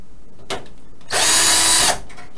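A power drill used to back screws out of a PC power supply whirs in one loud, steady burst of under a second after a short click, with quiet room tone around it and no talking.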